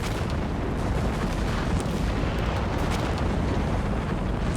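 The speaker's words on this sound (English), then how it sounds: "Is that a creeping barrage?" Continuous rumbling artillery barrage in Company of Heroes 3, a dense, steady wash of distant explosions and booms rolling on without pause, with no voices over it.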